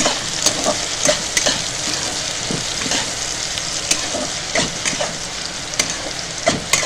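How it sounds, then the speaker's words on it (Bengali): Chopped onion, garlic and green chili sizzle in hot oil while a spatula scrapes and stirs the pan in steady, close strokes, with no one talking. "আর সব ভালো করে ভাজা করতে হবে"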